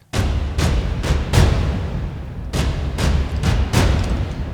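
Deep, booming metal drum samples from Laboratory Audio Strikeforce, on the loose setting, strike in uneven clusters, each loud with a short ringing decay, playing alone without any voices.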